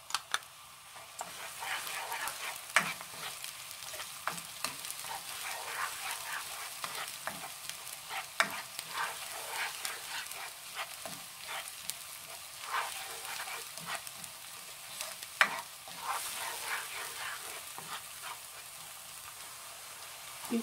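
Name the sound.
onions and garlic frying in a pan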